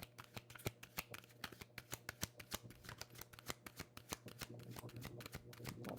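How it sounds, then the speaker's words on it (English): Oracle cards from the Divine Masters deck being shuffled by hand, a steady run of crisp riffling flicks and slaps, close and fairly quiet, with no voices. "I'm going to shuffle again."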